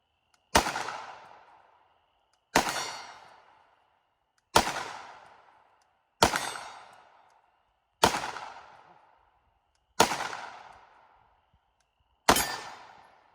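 A Canik SFX Rival pistol fires at a steel pepper popper target: seven loud, sharp shots spaced about two seconds apart, each ringing off in a short decaying tail, with no talking.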